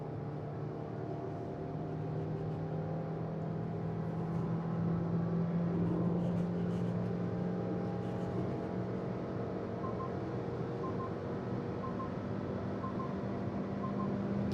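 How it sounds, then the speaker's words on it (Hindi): Maruti Suzuki Victoris car cruising at about 90 km/h in sports mode, heard from the cabin as a steady, faint hum of engine, tyres and road, continuous and unchanging throughout. "यहाँ पर अभी 90 की स्पीड पर गाड़ी चल रही है और अब हम करते हैं इसको स्पोर्ट्स मोड में"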